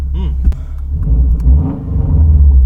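A 1993 Subaru Legacy engine hums and rumbles low and close, rising in a few mild revs with a steady throttle.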